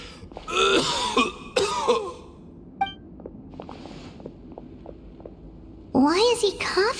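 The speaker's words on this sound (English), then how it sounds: "Why is he coughing so much?" A character in Genshin Impact coughs and clears his throat in several rough bursts. Quiet pauses fall between the bursts, and a voice speaks in the game at the start and end.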